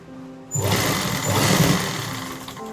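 A sewing machine runs a straight stitch along a trouser pocket, starting abruptly and keeping up a close, continuous motor hum and needle chatter for a couple of seconds.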